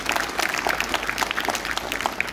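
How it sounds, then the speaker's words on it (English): Audience clapping at a school event announcing ties with IPS and Sarachand Pawar International Public School, a steady dense patter of many hands sustained throughout at moderate loudness with no talk over it. "Everyone clap for everyone"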